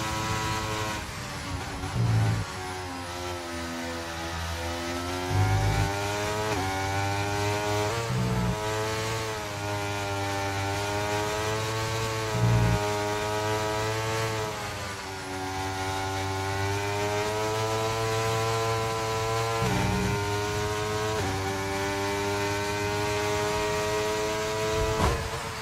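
Racing car engine in F1 23 at the Japan circuit on a fast lap, a loud continuous high-pitched whine rising and falling through gear shifts, with brief dips at each change across the run.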